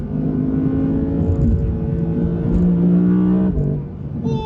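A 2022 Audi R8 with a V10 engine accelerates hard, a loud close engine roar with a rising pitch through a gear, briefly easing off near the end before picking up again.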